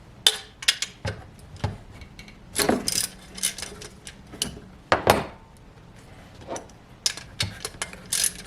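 A ratchet fitted with a 12mm deep socket works on valve bolts during a Lexus CT200h head gasket job, giving scattered short clicks and metallic clunks between quiet pauses, close to the ear.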